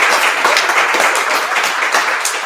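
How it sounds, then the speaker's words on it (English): Loud audience applause and clapping at a community gathering, a close, dense burst of hand claps that holds steady for a couple of seconds without talk. "y'all, clap it up for him"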